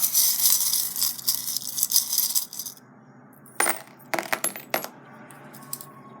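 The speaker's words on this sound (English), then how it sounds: "I'm going to mix up the charms." Metal charms are shaken together and dropped onto a surface for a divination reading: a bright jingling clatter of small metal pieces that settles, followed by several separate sharp clinking bursts as they are tossed again, close and clear with no talk.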